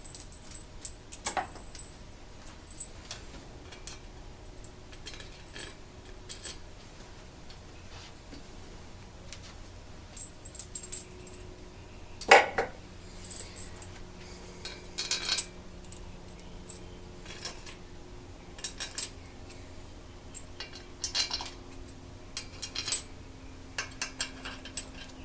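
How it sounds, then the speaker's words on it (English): Bolts being spun down by hand on a 1972 truck engine, faint intermittent metallic ticks and clinks with a couple of sharper clanks in a quiet workshop. "Start to spin some bolts down."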